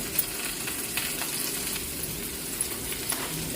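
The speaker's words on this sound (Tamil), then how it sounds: "நெத்தலி கருவாட்டை வந்து ஆட் பண்ணுறேன் நெத்தலி கருவாடம் கொஞ்சம் இந்த எண்ணெயில் வதங்கிக்கின்னு சொன்னால் நல்ல ஒரு வாசமாக இருக்கும்" Dried anchovies frying in oil in a pan for a fish curry give a steady, even sizzle with faint crackles, close up and continuous with no voices.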